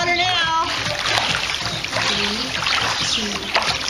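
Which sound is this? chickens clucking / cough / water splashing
water splashing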